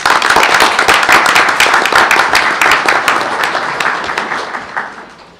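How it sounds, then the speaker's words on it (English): Audience applause at a school board meeting, honoring a 4th grade teacher; dense clapping from a crowd fills the whole stretch at a steady level, then tapers off toward the end. "Let's give Miss Stocks a round of applause."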